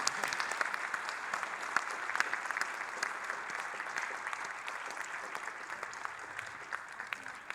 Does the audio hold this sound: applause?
yes